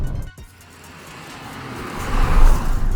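A 2021 Hyundai i20 N Line hatchback's engine revs up and grows louder as it accelerates flat out, rising to a strong roar near the end.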